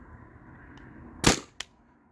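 A Tippmann TPX paintball pistol running on a 12 gram CO2 cartridge fires once with a sharp, loud pop and hiss, followed by a smaller echoing crack, against a quiet background.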